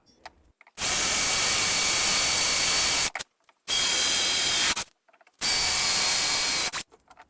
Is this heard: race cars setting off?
no